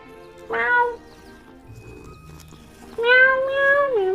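A cat in the video game Hogwarts Legacy gives two clear, drawn-out meows a few seconds apart, with faint game ambience between them.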